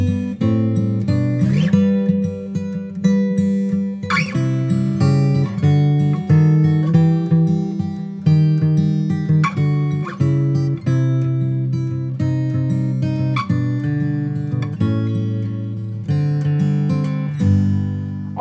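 An acoustic guitar plays the main section of a song, picked notes and strummed chords moving in a steady rhythmic pattern, clear and close, with no voices throughout.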